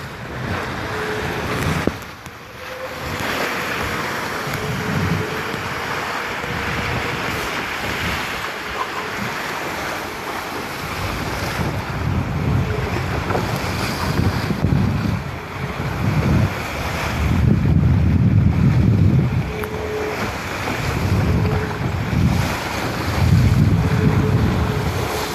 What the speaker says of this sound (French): Le bateau file à pleine vitesse.